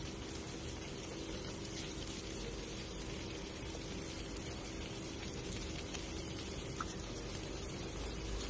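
Cauliflower florets fry in hot oil and ghee, giving a steady, even crackling hiss at moderate volume with no talking.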